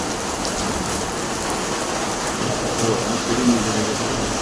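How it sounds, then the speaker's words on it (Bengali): Heavy rain pouring down steadily, a dense, even hiss of drops striking surfaces, loud and continuous throughout with no voices. "প্রচুর বৃষ্টি হচ্ছে প্রচুর"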